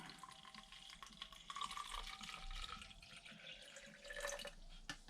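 Tap water that smells faintly of bleach pours into an ÖKO filter bottle, a faint, continuous splashing and gurgling trickle heard close up for several seconds.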